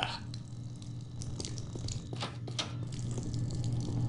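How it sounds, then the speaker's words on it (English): In the video game Postal 2, a character urinates: a faint, steady trickle of liquid splashing and dripping over a low background hum, with no talking. "just gonna pee everywhere I go"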